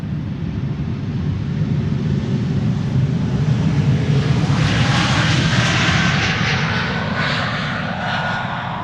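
Embraer E2 jet airliner, registration PH-NXA, at Schiphol Airport, engines roaring steadily and close for the whole stretch, swelling slightly as it passes, with no voices.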